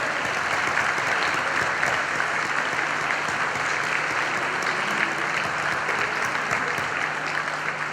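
Sustained audience applause at an open-air Aragonese jota festival in Beceite, honoring the television camera operators and technicians; steady, dense clapping from a large crowd fills the whole stretch without pause.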